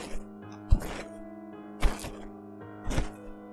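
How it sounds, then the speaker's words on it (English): Slow, heavy footsteps enter a barn, three loud separate thuds about a second apart, each ringing briefly over a low droning background, no talking. "I heard footsteps entering the barn. They were slow, but produced a heavy thud with each step."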